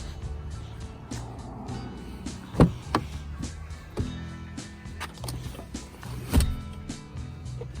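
Rear seat backs of a 2020 VW Golf TSI being folded down inside the car, with a couple of loud thumps and latch clunks among softer rustling and handling noises, close up and without talk.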